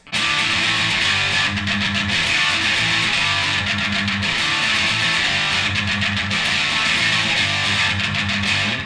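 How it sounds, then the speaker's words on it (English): A heavily distorted yet bright punk rock electric guitar plays a steady, chugging palm-muted riff with continuous loud sustained chords and no voices. "we're going to get a more distorted but bright kind of tone"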